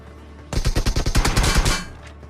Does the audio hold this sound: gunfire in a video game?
yes